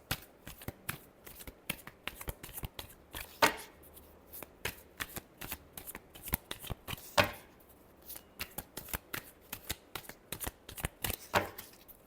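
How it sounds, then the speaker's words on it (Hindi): Tarot cards being shuffled in a quiet room, a continuous run of crisp riffling bursts and soft slaps recurring at an uneven rhythm, close and fairly faint, with no talking. "Last shuffle."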